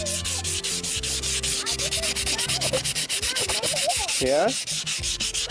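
Rhythmic sanding strokes rub 1000-grit sandpaper across a car's gas door, steady and close, with a brief spoken word and some background tones underneath.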